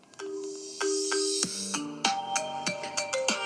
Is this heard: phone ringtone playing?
yes